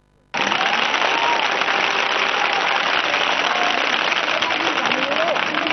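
At a Thai student gathering at Rama 8 Bridge, a crowd breaks into sudden, loud, dense applause after a brief quiet moment and keeps clapping steadily without pause.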